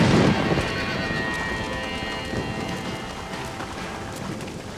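A horse in the Red Dead Redemption video game moves with soft clip-clopping hooves and a brief snort or whinny at the start, against a faint windy background.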